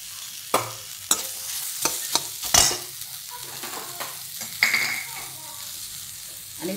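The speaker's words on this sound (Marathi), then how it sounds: "आता मी कांदा भाजून घेते" Onion frying in a pan after toasting sesame seeds, for thapi vadi: a steady close sizzle broken by repeated sharp scrapes and knocks of a spoon stirring against the pan.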